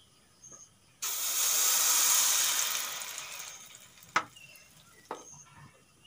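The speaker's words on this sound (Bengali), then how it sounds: "ডিম আর মসুরি ডালের মিশ্রণটা এখন ঢেলে দেব।" An egg and red lentil batter poured into hot oil bursts into a loud, bright sizzle that swells, then gradually fades, followed by a few sharp utensil knocks.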